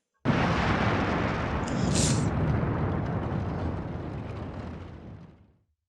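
Explosion in the game Ai The Somnium Files: a loud, sustained blast roaring continuously for about five seconds before fading out, with no speech over it.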